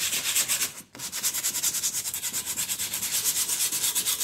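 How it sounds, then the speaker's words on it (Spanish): Repeated rhythmic rubbing strokes as a glazed car brake pad is sanded by hand to restore it, a steady fast scrubbing cadence close up with a brief pause near the start, no talk. "Hay que lijar la balata."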